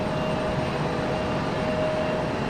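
A JetBlue Airbus A220 airliner at Raleigh-Durham airport, heard as a steady, loud broadband engine roar with a faint whine running through it, continuous and unbroken, with no voices.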